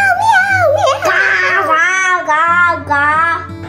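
A young child imitates a cat's meow with rising and falling whiny cries, close and loud, the voice sliding in pitch across several drawn-out mews.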